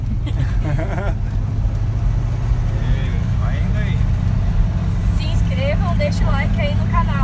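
A Volkswagen Beetle engine rumbling and revving as the clutch is released during a driving lesson, a loud low drone running throughout while people talk over it.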